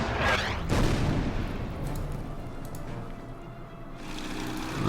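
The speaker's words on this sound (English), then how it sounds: "let's fire the artillery first." Artillery firing in the Order of Battle Panzerkrieg strategy video game, a dense rumbling barrage with a sharp blast near the start and a lingering low roar that swells again toward the end.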